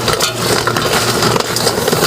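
Dense, continuous crackling and popping of chicken cooking in a hot pan with ghee and green chillies, steady and close, with no voices.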